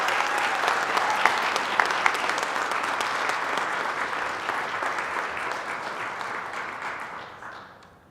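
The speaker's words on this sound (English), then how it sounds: "Join me in a round of applause as we celebrate Ropa for this well-deserved honor." An awards-ceremony audience gives a sustained round of applause, dense and loud at first, then gradually thinning and fading toward the end.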